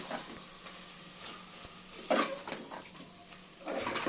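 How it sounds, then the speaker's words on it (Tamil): Mutton pieces sautéing in a pan with ginger garlic paste for a mutton gravy, giving a low steady sizzle with brief louder stirring bursts near the middle and end. "மட்டன் போட்டு ஒரு நிமிஷம் வதக்கிடுங்க."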